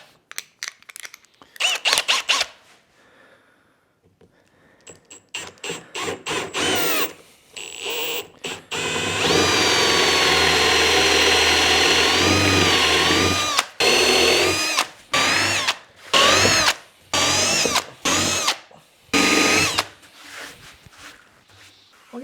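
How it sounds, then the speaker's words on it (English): A power drill with a 25mm Forstner bit bores recesses into live-edge wood for pendant light fittings, starting in short bursts, then running in one long steady grind before ending in a series of brief on-off pulses, loud and close with no talk. "We're going to drill at the back of all the light fittings now."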